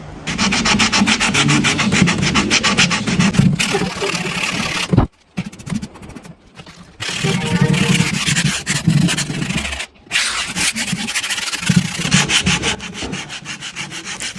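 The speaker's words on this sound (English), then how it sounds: "I just gave the top a sand on the edges where the paint had bled through under the tape" Hand sanding along the paint-bled edges of a small wooden table top, a close, steady scratchy rubbing in quick repeated strokes that pauses briefly twice before resuming.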